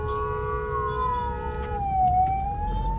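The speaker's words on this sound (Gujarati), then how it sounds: "આમ જો ટ્રાફિક જોવો અને પાછળ એમ્બ્યુલન્સ છે" An ambulance siren wails nearby in traffic, its tone sliding up and down over a low hum of road noise.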